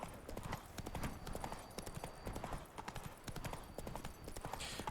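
Horse hooves clip-clop in The Witcher 3: The Wild Hunt, Blood and Wine, as a steady brisk trot of close, fairly faint hoofbeats over soft in-game ambience.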